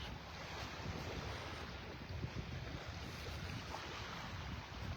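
Water trickles and washes steadily along a Gulf beach shoreline at Delnor-Wiggins, North Naples, on an outgoing tide, a soft continuous rush blended with light wind, with no voices.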